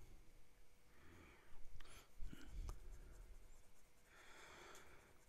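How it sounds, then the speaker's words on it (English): A pen scratches across paper in short strokes, writing an ink swatch, soft and close, with quiet breathing and faint room noise between. "So we'll do an ink swatch here."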